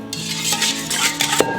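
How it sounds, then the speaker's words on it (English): A whisk stirs a water-based injection mix for pork shoulder in a bowl, giving quick scraping swirls and light clinks against the bowl, close up and fairly quiet, with a few brighter knocks near the end. "you're gonna take a whisk in your mix and just kind of whisk it up real good"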